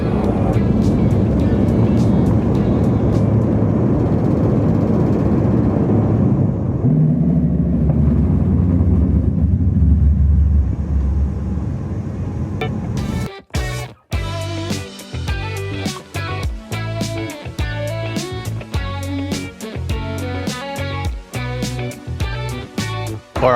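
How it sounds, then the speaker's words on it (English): Inside a Boeing 747 just after takeoff, a loud, deep rumble from the extended landing gear fills the cabin and then fades as the gear retracts, giving way to a quieter steady hum. "I was amazed at just how much noise the landing gear of this 747 makes"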